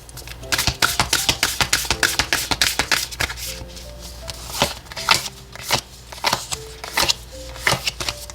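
Oracle cards are shuffled in quick, crackling bursts of riffling and rustling that keep going throughout, with a voice speaking intermittently over the handling.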